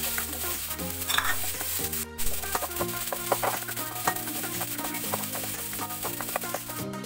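Garlic and onion sautéing in a pan, a steady close sizzle mixed with frequent scraping and clinking stirring sounds, no talk.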